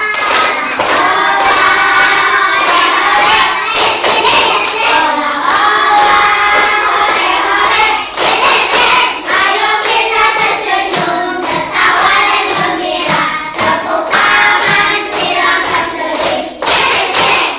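Classroom of Indonesian schoolchildren performing a clapping chant, rhythmic group hand claps and thumps mixed with loud sung and shouted chanting voices, close and continuous.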